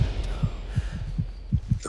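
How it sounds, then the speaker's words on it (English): Soft, low percussive score pulses in a heartbeat-like rhythm, roughly seven muffled thumps whose spacing tightens slightly as it quickens, steady and fairly faint with no voices. "The percussive score quickens, just slightly, a heartbeat accelerating."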